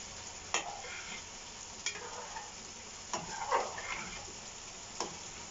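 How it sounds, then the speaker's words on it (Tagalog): Beef kare-kare being stirred in a frying pan with black pepper added, a soft steady sizzle broken by a few sharp scrapes of the utensil against the pan at intervals. "Haluin natin."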